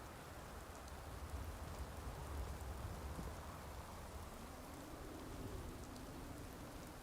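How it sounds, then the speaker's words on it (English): Steady video-game rain pours down in a constant soft hiss, with a faint low rumble beneath and no voices. "It is rain."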